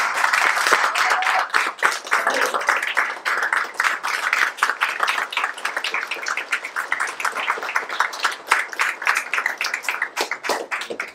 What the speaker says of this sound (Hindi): हमारे उल्लेश दादा, उनके लिए भी जोरदार तालियां